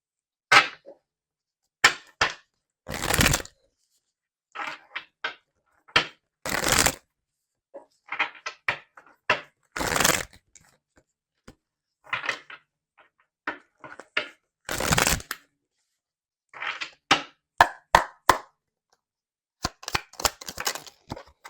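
Tarot cards are shuffled and drawn in sharp, close riffling bursts and snaps, separated by short silences, with no talking.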